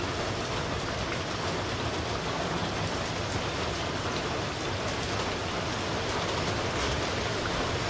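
Steady rain falls over a Bangladeshi village, a dense even patter of drops hitting surfaces that holds constant throughout with no voices.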